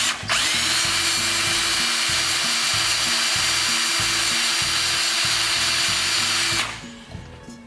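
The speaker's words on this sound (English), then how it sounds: "So we're gonna go in first with a small drill bit" A small, sharp drill bit bores steadily into a broken bolt, the power drill whining loud and close with a pulsing motor drone for about six seconds before winding down and stopping.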